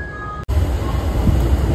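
A Tokyo metro train runs with a continuous low rumble and hum, loud and near, broken by a brief cut near the start.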